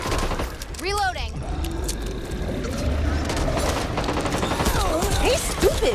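Scattered gunfire and mechanical clatter in the Back 4 Blood zombie shooter, mixed with shouting voices and creature shrieks, a busy chaotic battle with overlapping in-game talk.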